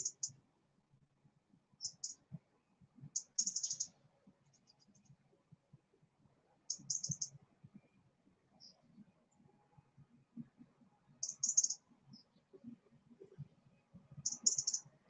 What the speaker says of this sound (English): It's very loud bird.